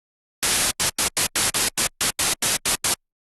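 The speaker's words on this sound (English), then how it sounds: "Because really the point of white noise is just be noise." Bursts of broadband synthesizer white noise, a dozen short gated hits in an uneven rhythm, loud and dense across the whole range and separated by brief silences.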